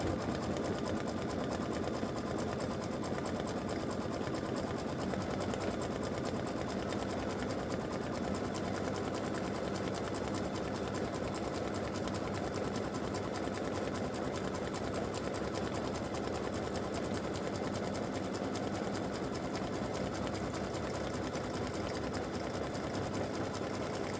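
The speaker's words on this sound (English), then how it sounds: "So just take a good look at it before it starts doing the actual satin stitch." Embroidery sewing machine stitching an appliqué satin stitch, a fast, unbroken mechanical needle rattle and motor whir that holds steady and close throughout with no speech.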